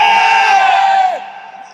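A large crowd at a religious gathering calls out a loud, unified shouted reply, holding the sustained vocal roar for about a second before it drops away.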